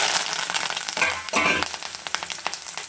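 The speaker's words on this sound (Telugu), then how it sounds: "నెక్స్ట్ వచ్చేసి జీలకర్ర. ఎంత మంచిగా వేగితే అంత టేస్ట్ ఉంటుందండి." Cumin seeds fry in hot oil for tempering, giving close, lively sizzling with sharp crackles and pops that swell and settle in uneven bursts.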